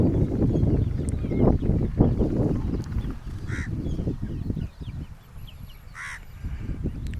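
Chickens in a low-cost farm shed shared with sheep, part of a flock of about three hundred birds, keep up a dense, continuous chorus of clucks and calls, with a few sharper cries standing out nearby.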